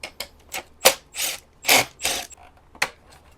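A hand ratchet removes hardware from a Jeep Wagoneer dashboard, clicking in short close bursts of rapid ticks separated by brief pauses.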